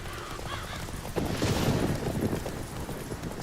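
Roach, a horse in The Witcher 3 video game, gallops with rapid rhythmic hoofbeats that surge louder midway, joined by a neighing whinny, over a steady game background.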